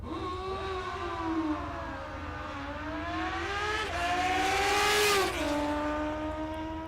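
A drag racing car accelerates hard down the strip at Mo-Kan Dragway, a steady loud engine whine climbing and shifting in pitch as it pulls away, heard from a distance and continuous throughout.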